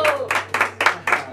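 Guests at a birthday party with a mariachi band clap in a rhythmic beat, five or six sharp bursts close by over a low electrical hum.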